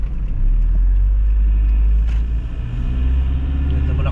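Engine of a Toyota Fortuner with a recurring check-engine fault, revved hard while driving: a loud, steady low rumble that swells and holds close, with a brief voice underneath.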